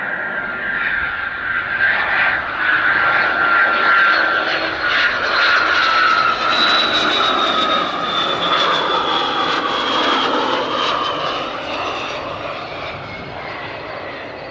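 A Cessna Citation business jet landing on a runway at Spirit of St. Louis Airport, its engine roar rising from a distant whine to a loud sustained rush and then fading slowly, with no speech.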